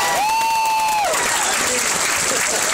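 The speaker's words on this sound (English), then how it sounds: "More applause for the Mario Brothers for that" Applause from a convention panel audience at a Dragon Ball event swells in as a broad, steady wash, following a brief sustained tone, and continues loud and dense to the end.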